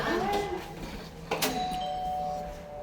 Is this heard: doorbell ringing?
yes